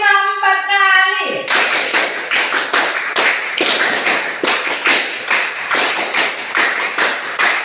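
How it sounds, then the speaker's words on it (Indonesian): Hands clap out a fast, steady rhythm in a counting clapping game, many sharp claps in quick succession, loud and close, after a short sung or spoken lead-in at the start. "Tepuk konsentrasi. Tepuk 1. Tepuk 2. Tepuk 3."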